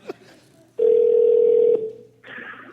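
An old telephone is dialed: a long, loud steady dial tone sounds, stops abruptly, and is followed by a brief burst of higher-pitched tone after a short gap.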